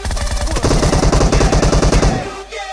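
Rapid automatic gunfire in PUBG on the Sanhok map, a loud close burst of evenly spaced shots lasting about two seconds before cutting off.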